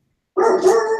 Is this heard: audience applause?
no